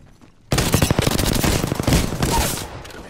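Rapid bursts of automatic gunfire in the video game Apex Legends erupt after a brief quiet start, sustained loud overlapping shots and clatter running for nearly three seconds before tapering slightly.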